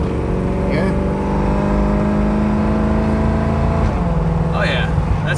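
A 1985 car's engine runs steadily with a low drone, then drops in pitch as it shifts gear near the end; voices can be heard talking faintly over it.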